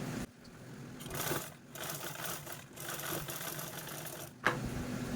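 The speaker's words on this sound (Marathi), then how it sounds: "आता यावरतीच आपण स्टिच करून घेऊया" A sewing machine runs in bursts while stitching a fabric pouch for a bank passbook and chequebook, with short pauses between runs and a steady close hum.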